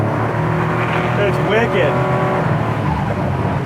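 A 1987 Buick Grand National turbo running on E85 with a bigger turbo pulls hard, its loud engine roar and whooshing intake sound heard from inside the car while a passenger talks excitedly over it.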